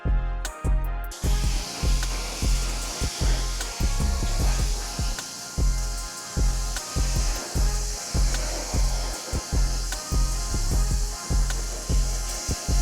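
Car wheel and lug nuts rinsed off with a water spray, a steady loud hiss with rhythmic bursts as the stream sweeps across the rim, close by with no talking.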